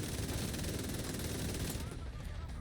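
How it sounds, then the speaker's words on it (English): Sustained automatic assault rifle fire in The Division 2, dense and continuous bursts up close, thinning out toward the end as the shooting stops. "Gonna empty my gun first"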